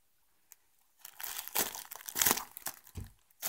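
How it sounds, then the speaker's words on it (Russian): Crinkling rustle of a plain cellophane parcel bag being handled while unpacking yarn, irregular crackly bursts close by after a moment of quiet. "Пошуршим немножко."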